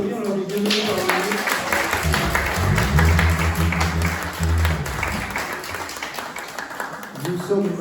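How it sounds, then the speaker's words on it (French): A church congregation claps in welcome for newcomers during a Sunday service, a burst of applause that swells and fades while a voice speaks over it in French. "on les applaudit, on leur dit bienvenue"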